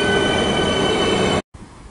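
A Melbourne suburban train pulls out of Toorak station, a loud steady rumble of wheels and rail noise with faint squeal, running continuously before cutting off abruptly near the end.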